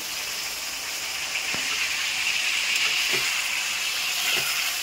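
Prawns fry in hot oil in a pan, giving a continuous sizzling hiss of moderate loudness, broken by a few brief clinks and stirring sounds.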